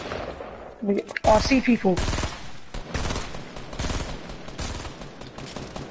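Loud bursts of rapid automatic gunfire in a squad shooter video game, fired to bring down a vehicle, with a dense volley early on and repeated shots after it, under excited players talking.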